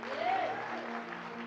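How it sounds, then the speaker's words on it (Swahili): Church congregation clapping together during the offering, a dense, steady wash of applause filling the room with a low hum beneath it. "Na Muranga mujifunze giving time, munapiga makofi."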